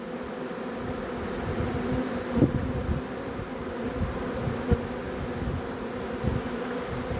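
Honeybees swarm at a hive entrance while being hived, a dense steady buzzing close by with a few louder passes of individual bees flying near, and no voices.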